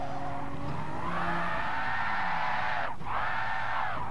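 A race car spinning out at Brands Hatch in the video game GT Sport, with a continuous engine drone, tires squealing through the spin, and the engine pitch dipping then climbing again, loud and close.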